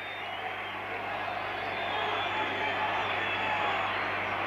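Stadium crowd at a Hungary versus France football match applauding a player's substitution, a steady distant roar of clapping and cheering that swells slightly, with a commentator talking over it.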